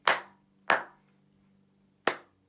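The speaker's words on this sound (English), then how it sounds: "if we were clapping it, we're doing it with our body percussion" Three sharp hand claps sound close by, the first two quick in succession, then a pause before the third, like a simple rhythm with a rest.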